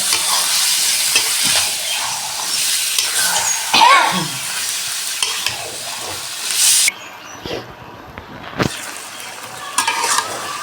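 Lotus taro stems fried with spices in a pan, stirred steadily with a loud, close sizzle and scraping, the frying hiss dropping briefly midway before resuming.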